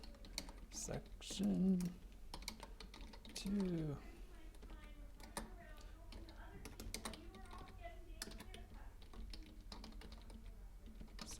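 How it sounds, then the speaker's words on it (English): Rapid clicking of computer keyboard typing runs throughout, with a person talking over it at times. "I'm just typing this in here."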